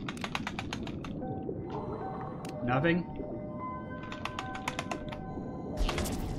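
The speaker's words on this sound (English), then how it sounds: "I'm going to slap my keyboard till a beam of light shows me where the hell" Computer keyboard being slapped and tapped rapidly during a deep diving simulator game, bursts of sharp clacks at the start and again near the end, with someone talking and electronic game tones sounding between them.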